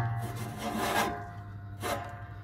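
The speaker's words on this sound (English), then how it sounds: "you just grab your rope, pull her back on through" A rope rasps as it is drawn through the belt pulley of a Bolens Troy-Bilt tiller, two drawn-out rubbing pulls close by, with no talking.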